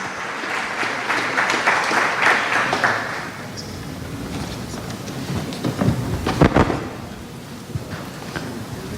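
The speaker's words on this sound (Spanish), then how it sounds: "Un aplauso otra vez" Applause from an audience at a social media day event, a dense wash of clapping that fades after a few seconds, then scattered claps and crowd noise with a few brief voices.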